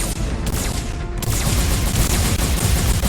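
Sustained heavy gunfire from a mech-building video game roars continuously at close range, a dense, loud barrage with rapid repeated shots and booming low rumble, briefly dipping before resuming.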